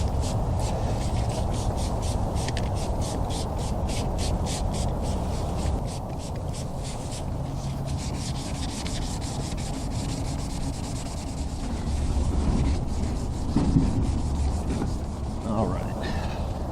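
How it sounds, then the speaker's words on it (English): Continuous wet sanding of primer on a car bumper, a close, steady rubbing and scraping with short rhythmic strokes that carry on without pause throughout. "time to wet sand our primer."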